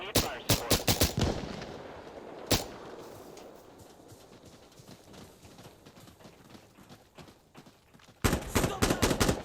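Rapid automatic gunfire in the video game Insurgency Sandstorm, with close, sharp bursts at the start and a single shot mid-way. A lower, rumbling stretch follows before another dense burst of shots at the end.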